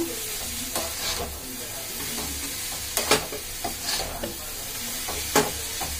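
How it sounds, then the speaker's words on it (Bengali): Boiled chow mein noodles stirred in a frying pan, with a steady close sizzle broken by several sharp scraping clatters of the spatula against the pan, no voices. "এটাকে এবার নাড়িয়ে চাড়িয়ে নেব।"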